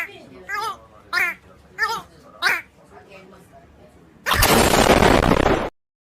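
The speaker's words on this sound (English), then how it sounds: "Well, I lost my explosion clip." An explosion sound effect played during a birthday livestream: a few short chirpy vocal bursts come first, then a loud, dense blast roars for about a second and a half and cuts off abruptly into silence.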